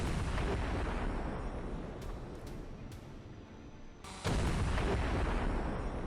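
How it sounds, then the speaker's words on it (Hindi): Giatsint-S self-propelled artillery guns fire shells in a snowy war zone during the Russia-Ukraine war: a constant loud roar with a few sharp cracking reports, then a heavy boom that brings the roar back up. "बर्फीले जंग वाले इलाके में गियासन एस सेल्फ प्रोपेल्ड तोपों से दनादन गोले दागे जा रहे हैं।"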